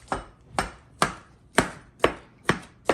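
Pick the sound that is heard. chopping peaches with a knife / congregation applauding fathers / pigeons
chopping peaches with a knife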